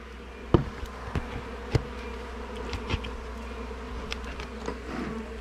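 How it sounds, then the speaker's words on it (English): Honeybees buzz steadily around a calm hive, a continuous insect drone with a few sharp knocks and taps scattered over it, close by and fairly quiet. "Nice chilling little hive right here."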